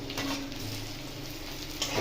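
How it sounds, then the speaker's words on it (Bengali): Cut potatoes with onion and garlic fry in a pan, a brief, close, steady hiss of sizzling oil with no voices. "পেঁয়াজ ভাজা হয়ে গেলে এর মধ্যে কেটে রাখা আলুটা দিয়ে দেবো।"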